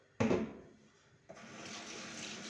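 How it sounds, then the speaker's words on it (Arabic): Rice is rinsed in water in a pot in a home kitchen: a sudden close splash, then a quieter lull and a steady stream of running water. "هناخد الرز ده هنغسله"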